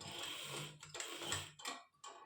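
A sewing machine stitches a winter halter-neck kurti in several close runs of rapid mechanical chatter, each broken by brief pauses, with no voices over it.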